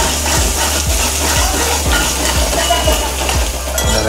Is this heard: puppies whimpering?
no